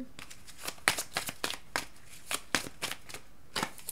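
Tarot cards being drawn and shuffled during a reading, making close, soft riffling swishes in a quick irregular rhythm of repeated short bursts.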